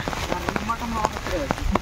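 Light rain falls steadily in the open during wet-weather fishing, a soft continuous patter with someone talking over it throughout.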